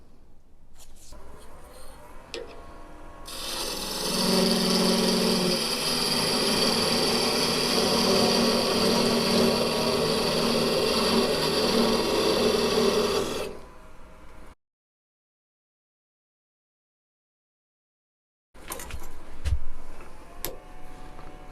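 A woodturning lathe cuts down a wooden tenon, a steady broadband machine whir with a tool scraping the spinning wood for about ten seconds, then it stops and falls silent before faint workshop noise returns.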